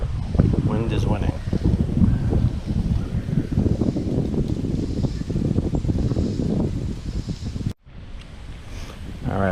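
Wind gusts buffet the microphone beside a stream during fishing, a loud continuous rumble with a brief dropout near the end, and someone talks over it.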